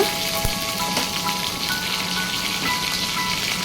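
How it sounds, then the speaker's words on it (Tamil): Steady, bright sizzling and crackling of washed curry leaves frying in hot oil, close up with no voices. "இப்போ நம்ம கழுவி எடுத்து வச்சுருக்கிற கருவேப்பிலையை சேர்த்துக்கோங்க"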